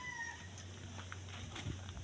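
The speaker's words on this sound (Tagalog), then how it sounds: "may pusa pa sa ilalim." A cat meows from underneath a chair in a rural home workshop, its faint, brief cries over a steady low hum.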